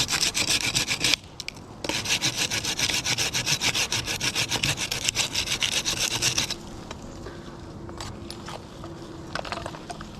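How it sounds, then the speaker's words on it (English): A handsaw cuts into a large red oak log during tree rigging by a barn, with close, rapid rasping back-and-forth strokes, a short pause, then more strokes before slowing to scattered scrapes and faint outdoor sounds. "I cut in with the handsaw just on the top because I want to see how it peels"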